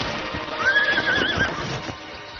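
An old horse lets out a loud, wavering whinny lasting about a second, with faint hoof clatter around it.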